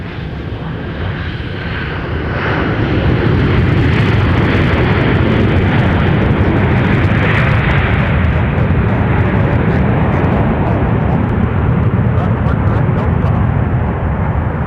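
An airliner from Orlando touching down at MSP airport, its loud engine roar swelling and then holding as a broad, sustained rumble, with a voice speaking over it.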